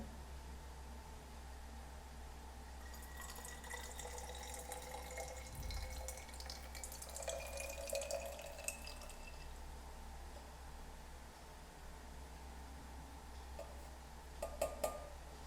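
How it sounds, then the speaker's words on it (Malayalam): Liquid pours into a bottle in a faint trickle, its tone rising as the bottle fills, with soft drips and a few light clinks near the end. "ഒഴിച്ചു കൊടുക്കാം. കണ്ടോളിട്ടോ, ഒഴിക്കുന്നുണ്ട്."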